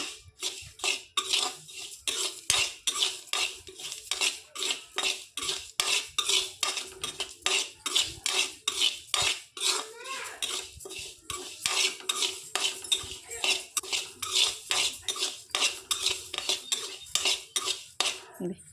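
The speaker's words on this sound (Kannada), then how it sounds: "ಇದಕ್ಕೆ ಒಂದು 7ರಿಂದ 8 ಏಲಕ್ಕಿ ಮತ್ತು 10ರಿಂದ 12 ಲವಂಗ ಹಾಕಿ ಹುರ್ಕೊಳ್ತಾ ಇದ್ದೀನಿ." Cardamom pods and cloves stirred and roasted in a pan for homemade crunchy fennel mix, with a metal spoon scraping and clinking steadily against the pan in a quick rhythm, close and with no talking.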